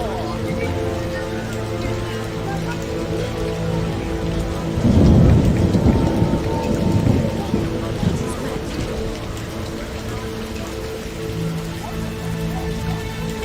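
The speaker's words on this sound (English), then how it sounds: "As it rained hard and wild." Hard, wild rain in The Witcher PC game pours in a continuous dense wash, and a deep rolling thunderclap rises midway and rumbles for several seconds before the rain settles back to a steady roar.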